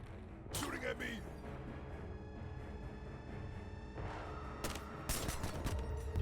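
Gunfire in the tactical police shooter Ready or Not, sharp shots bursting in around the half-second mark and again near five seconds over a steady hum of game ambience and mechanical noise.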